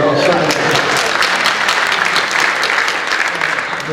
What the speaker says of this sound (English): All right, big round of applause for Pearson right there.